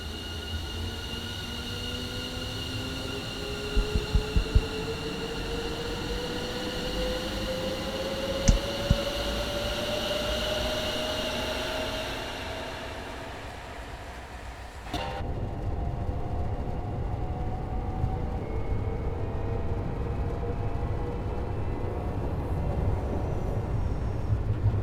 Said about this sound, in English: You can hear a lot more rumbling inside the train. That's with the new sound, so you've got the rattling of the train.